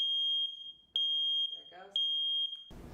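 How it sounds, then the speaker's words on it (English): A Google Nest Protect smoke alarm sounds during a test with a loud, piercing high tone in long pulses broken by brief gaps, while a voice talks quietly between beeps. "The alarm is loud."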